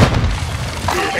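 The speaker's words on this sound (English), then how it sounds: "Changing mags, throw in a stun grenade." Stun grenade going off in Call of Duty Modern Warfare 2, a single loud, close boom followed by a short ringing decay amid game noise.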